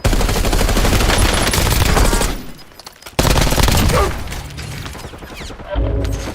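Rapid bursts of video game gunfire crackle loudly in dense volleys, drop out briefly, then return in another heavy barrage before fading.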